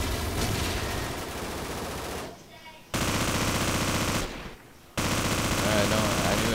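Automatic gunfire in the Call of Duty: Modern Warfare video game rattles in long rapid bursts, loud and close, cut by two short pauses before firing resumes.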